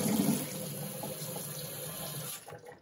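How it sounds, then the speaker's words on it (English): Homebrew brewing equipment rinsed under a running tap, a steady close splash of water into a sink that carries on for a few seconds before easing off near the end. "Give it a little bit of a sponge down around the sides and a rinse out"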